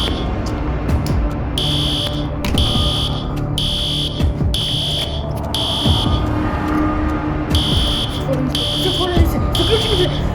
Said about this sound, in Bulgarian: Да, чувам алармите